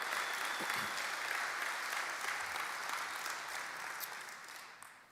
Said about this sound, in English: Let's have one more round of applause for all of our Excellence in County Government Award recipients